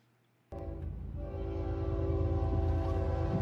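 A train approaching a level crossing sounds its horn in a loud sustained multi-tone blast that starts abruptly and holds, with a rumble of rail cars building beneath it.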